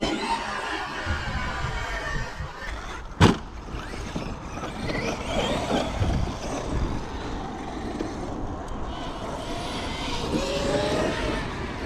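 A Traxxas X-Maxx RC car drives over mown grass with a rough motor and tyre roar that rises and falls. There is one sharp knock just after three seconds, like a jump landing or flip. The car sounds fairly close.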